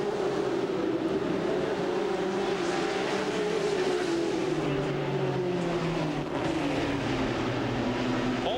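Stock cars racing on the oval at Hawkeye Downs Speedway in a 1996 ASA AC-Delco Challenge Series 300-lap race, a steady loud roar of several engines with pitch gradually shifting as cars pass.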